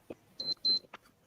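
A few short electronic beeps, a pair of bright tones close together followed by softer blips, fairly faint against a quiet background.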